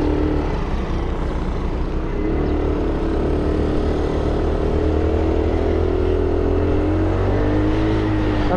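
Engine of an FKM Fyro 175 motorcycle, still in break-in, droning steadily and close during a ride, a continuous low rumble with no speech over it.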